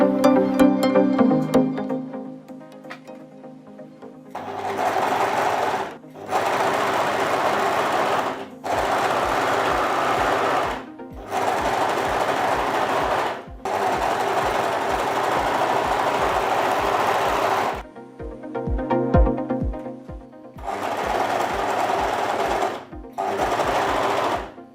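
A Singer sewing machine stitches skirt pieces together for a peasant-style skirt, running in several steady bursts of rapid needle clatter separated by brief pauses, close and loud with no talk.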